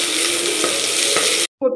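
Mustard seeds, urad dal, cumin, onion and green chili fry in coconut oil with a loud, close, crackling sizzle that cuts off abruptly, followed by a brief faint clink.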